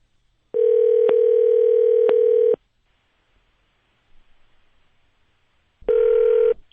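Telephone call tones: a steady electronic dial tone sounds for about two seconds, cut by two brief clicks, then stops, and a second burst of the same tone returns after a quiet gap with faint rustling.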